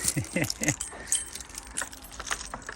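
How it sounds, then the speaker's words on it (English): A big bunch of keys for a Mercedes 308D motorhome jangles close to the mic in several quick shakes, the metallic clinks bunched near the start and then scattered more loosely over a faint background. "Got about 1 million keys with it as well"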